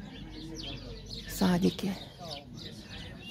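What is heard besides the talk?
birds singing in a garden, mostly sparrows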